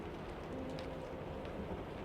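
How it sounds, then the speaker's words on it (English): Steady, soft rain patters on a train carriage, a continuous gentle hiss with faint scattered drops, alone and even in level throughout. "the gentle tapping of the rain on the train's carriage was comforting"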